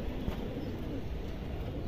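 A pigeon offered for sale coos faintly and continuously in low murmurs, close by amid steady background noise.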